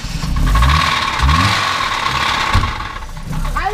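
A BMW E36 saloon's M43 1.8-litre four-cylinder engine is pushed toward full throttle, giving a loud, steady drone with rising rev surges, close to the microphone, while people talk briefly over it.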